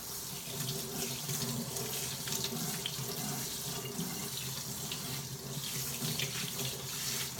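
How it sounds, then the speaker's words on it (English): Tap water runs steadily onto a wet mop pad in a sink, an even, moderate splashing hiss that continues without a break. "you just get it wet under running water"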